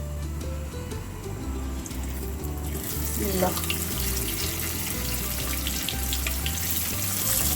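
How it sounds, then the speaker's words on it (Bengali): Pabda fish slid into hot oil in a pan, the sizzle swelling partway through into a loud, steady hiss of frying over a low background hum, with no talking. "এখন আমি মাছগুলোকে ভেজে নিব।"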